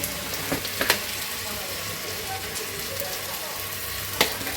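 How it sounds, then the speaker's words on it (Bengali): Polao rice frying in oil with salt, a steady broadband sizzle running throughout with a few brief scraping stir clicks near the start and end, close and moderately loud. "আর এটা এখন আমি একদম ভাজা ভাজা করবো আর কি।"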